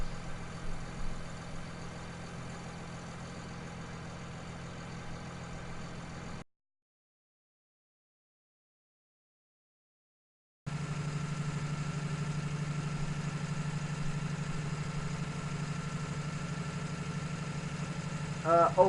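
A tractor, a 315, idles with a steady mid-low engine hum and vibration, heard close, broken by a few seconds of silence before the same drone resumes.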